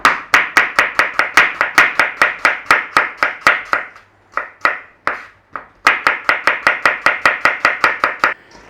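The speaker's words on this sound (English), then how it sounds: "we're thin slicing" Apples and cabbage thinly sliced with a knife on a board for spiced roast red cabbage, a fast run of sharp, close, evenly spaced chopping taps that pauses briefly midway and then resumes at the same steady pace.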